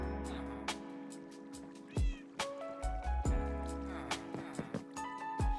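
Minecraft cat meowing repeatedly in close, clear calls, with a drawn-out caterwaul partway through, over steady game music and ambient tones.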